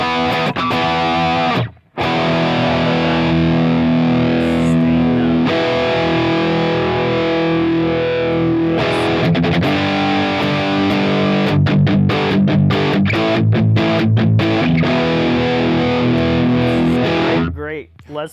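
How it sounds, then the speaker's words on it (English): An '88 Gibson Les Paul Custom Florentine electric guitar played through heavy distortion, loud and close, with sustained thick chords and riffs and a short break near the start, then choppy muted stabs toward the end. "Great Les Paul sound."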